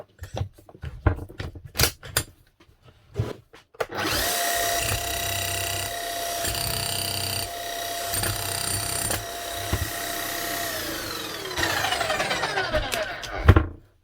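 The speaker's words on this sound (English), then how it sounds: "As for the hammer itself, what does it sound like?" A rebuilt Bosch GSH 11 E demolition hammer assembled from scrap machines and a copy motor runs loudly for about eight seconds with a steady whining motor tone and rapid pounding, after some handling clicks and knocks, then winds down.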